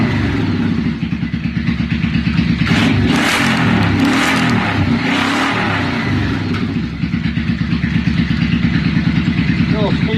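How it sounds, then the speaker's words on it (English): An old motorcycle engine revving as the throttle is opened after sitting unstarted for weeks, a loud close mechanical clatter rising and holding steady throughout, with a voice talking over it. "Let's give her a little grip on the old throttle here."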